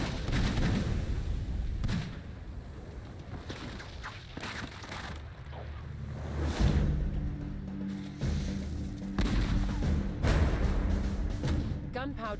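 A multi-barrelled gunpowder gun fires on an Age of Empires IV Hundred Years' War battlefield, with several loud cracking blasts and rolling booms in irregular bursts amid battle noise, with a voice talking over it.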